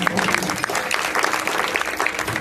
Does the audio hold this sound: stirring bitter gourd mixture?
no